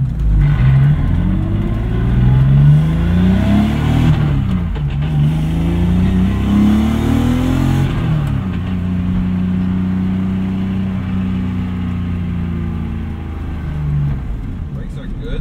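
A 1991 BMW 325i E30 fitted with an S50b30 engine at around 109,000 miles pulls hard, its inline-six note climbing through the revs, easing off and rising again, loud and close inside the cabin with someone talking over it.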